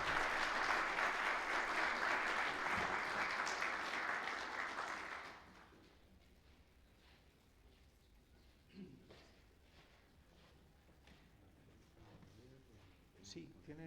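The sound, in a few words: applause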